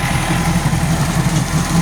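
A tractor engine idles in a steady, low, unbroken rumble close by, with no talk over it.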